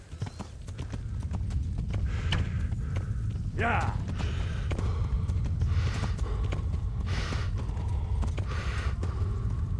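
Horse hooves clip-clop steadily at a run in the medieval game Kingdom Come: Deliverance, a continuous near rhythm with creaks and a brief whinny-like sweep, while someone talks over it.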